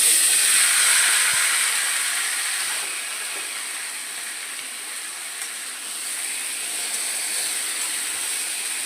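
Potatoes and kakur (cucumber) sizzling in hot oil with bay leaf, dried chilli and five-spice tempering, a steady loud hiss that swells at first then settles into a constant sizzle, with no talk.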